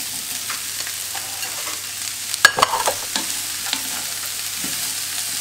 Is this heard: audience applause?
no